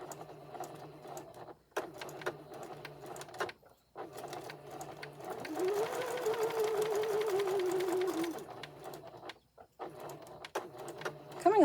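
A sewing machine stitches fabric for a whole-animal memory bear in several runs, with short bursts and brief pauses before a longer sustained stretch of steady whirring, close up and with no talk.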